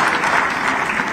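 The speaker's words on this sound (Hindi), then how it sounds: "जोरदार तालियां बजा प्रदीप पटेल जी के लिए" Loud, dense clapping from a big audience at a regional industry conclave in Rewa, sustained and even for the whole brief moment with no talking over it.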